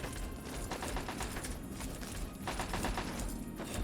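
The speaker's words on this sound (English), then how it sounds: "Okay, I am definitely hearing gunshots." Gunfire from a weapon in Fallout 3 inside the RobCo facility: a few muffled, distant-sounding shots break through a steady, dense background rumble of game ambience.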